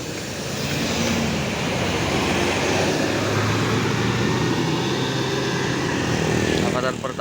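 A Budiman intercity bus on the Tasikmalaya–Yogyakarta route passing by, a broad loud engine and road roar that holds steady for several seconds, with voices talking faintly beneath.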